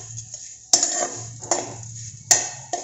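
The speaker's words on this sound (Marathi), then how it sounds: "हे साखर विरघळेपर्यंत चांगलं मिक्स करायचं." A spoon stirring sugar and grated coconut in a metal pan, with a few sharp scraping clinks against the pan amid soft shuffling, close and fairly quiet.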